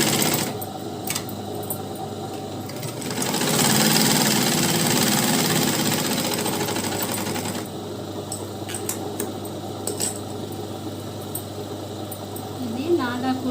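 A sewing machine runs steadily while stitching the seam of a skin-tight chudi pant, with a busier stretch of motor whir midway and occasional small clicks, near and continuous.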